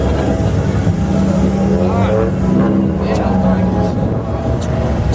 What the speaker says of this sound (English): We got another LS Miata here.